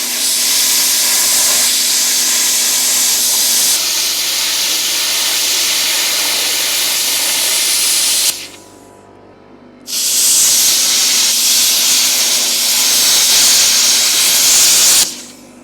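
Plasma cutter cutting a hole freehand through metal, a loud steady hissing roar that runs for about eight seconds, stops briefly, then resumes for another five.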